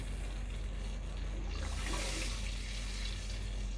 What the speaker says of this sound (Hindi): तो पानी मैंने डाला है 5 प्याली।